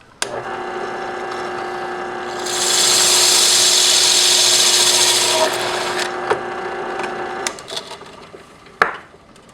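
A drill press bores out and enlarges the center hole of a plastic CD, a steady loud whirring grind lasting several seconds over the motor's hum, then easing off into scattered clicks and a sharp knock near the end.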